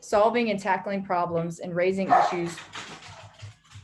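Pet dogs bark and whimper in a home during an online webinar, a string of close, rhythmic yips and bow-wows mixed under and between a person's steady talking.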